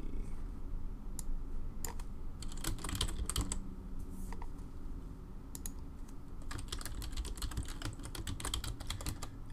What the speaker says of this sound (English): once I'm done typing here